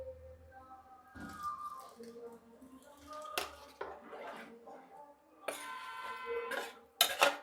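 Rice flour is mixed into beetroot batter in a pot, intermittent scrapes and sharp clinks of a spoon against metal, close and fairly quiet, with a voice speaking softly in the background.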